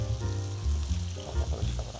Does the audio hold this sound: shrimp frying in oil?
yes